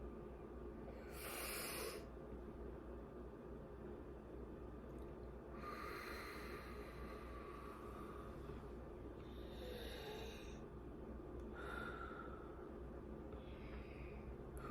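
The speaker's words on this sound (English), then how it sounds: "Breathe in, breathe out." Deep breathing in and out during a guided breathing exercise, several slow breaths heard as faint airy hisses and snorts over steady background noise.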